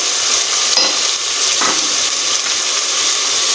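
Tomato and ginger-garlic paste sizzling and frying loudly in a pan for kala chana pulao, a steady bright hiss with a couple of brief stirring scrapes, close and continuous without talk.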